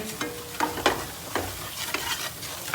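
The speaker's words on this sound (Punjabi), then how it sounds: "ਤੇ ਹੁਣ ਇਹਨੂੰ ਆਪਾਂ ਨੇ ਚੰਗੀ ਤਰ੍ਹਾਂ ਮਸਾਲੇ ਨੂੰ ਭੁੰਨ ਦਿੰਦੇ ਆ" Dry spice masala roasting in a small new kadai for a bottle-gourd kofta curry, with a spoon scraping and stirring in irregular close strokes over a soft, steady sizzle.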